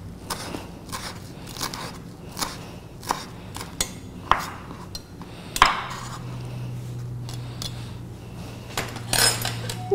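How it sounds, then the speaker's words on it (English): Guacamole stirred in a bowl, a spoon clinking and scraping in a steady series of sharp knocks against the bowl, close and moderately loud, with a low hum beneath later on. "And then we're just going to give it a good stir."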